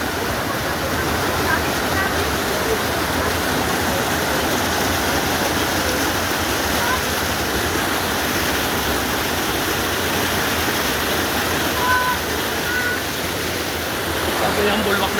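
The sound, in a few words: gushing waterfall at Three Falls, Sta Maria Laguna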